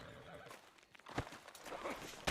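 Horse in the Red Dead Redemption 2 (RedM) game world gives a short neigh amid clip-clopping hooves, brief and moderately loud with faint background noise.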